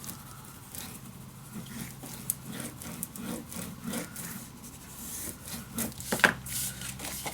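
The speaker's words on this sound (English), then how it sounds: "There we go, burnish it down." Paper on a craft folio is burnished down by hand, giving a steady close rubbing and scraping texture with faint repeated strokes and a few small taps.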